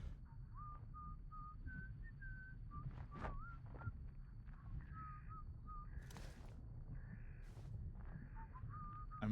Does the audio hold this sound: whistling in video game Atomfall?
yes